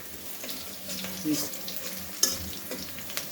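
Onion frying in a pan while waiting for it to brown, a soft ongoing sizzle with occasional clinks and a watery splash, close by and fairly quiet.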